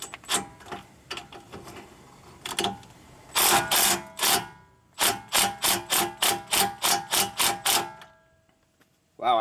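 Rapid metallic clattering bursts from a tool driving a 14mm socket on the tie-rod of a 2008 or later Nissan Rogue: several short hammering runs, then a steady, evenly paced string of about ten loud, close impacts.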